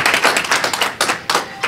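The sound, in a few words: audience round of applause for the panelists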